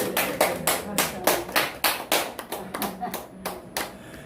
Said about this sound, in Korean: 그 박수를 하나님께 올려야 되게